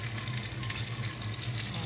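Chicken scallop coated in crushed Doritos chips instead of flour frying in hot oil, a steady, dense sizzle that holds close and loud throughout with no talking.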